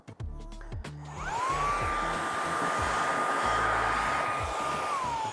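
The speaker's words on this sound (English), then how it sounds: "I can just go ahead and vacuum things up very quickly." A small portable two-in-one blower and vacuum gadget clicks on and spins up into a steady, loud, high-pitched whirring whine that holds evenly, with no talking.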